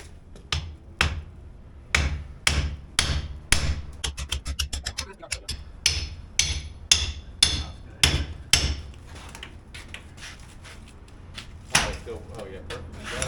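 Hammer blows pound a steel door frame set into masonry during a door replacement, a long series of sharp, loud, evenly spaced strikes with a quicker burst of lighter taps in the middle, and voices talking between hits.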